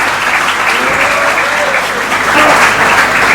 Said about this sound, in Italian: Un applauso al mitico Vito.